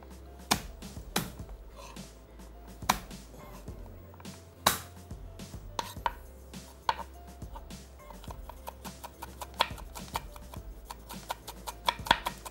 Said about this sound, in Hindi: यहाँ ले लेंगे जनाब लहसुन के जव्वे, थोड़ा सा इसको रफली सा चॉप करना है।